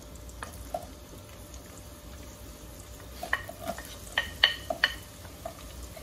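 Onions sizzle in olive oil in a pot on the stove, a soft steady crackle broken by several sharp clinks and scrapes of a utensil stirring, with no talking.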